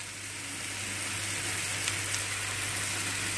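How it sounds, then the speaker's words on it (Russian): Onions and chopped mushrooms fry in vegetable oil with a steady, dense crackling sizzle that stays even throughout over a low constant hum. "Лук слегка обжариваем на растительном масле и добавляем сюда порезанные грибы."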